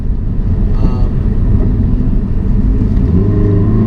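A 2016 Ford Focus SE engine drones loudly from inside the cabin, a low throaty rumble that swells as it accelerates, with a brief voice partway through.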